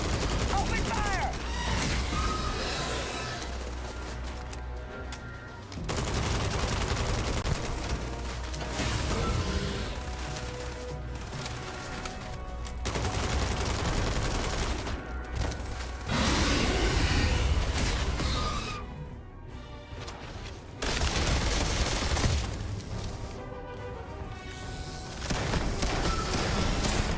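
Gunfire in the game Starfield comes in dense, rapid automatic bursts, loud and continuous, broken by a few short pauses.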